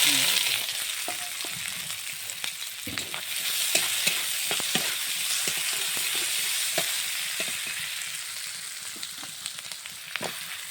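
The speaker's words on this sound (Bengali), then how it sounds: "আলু পটল ভাজা তেলে একটু তেল দিয়ে দিলাম" Potatoes and pointed gourd fry in oil in a pan, a continuous bright sizzle punctuated by frequent sharp clicks and scrapes of stirring throughout, with no voices.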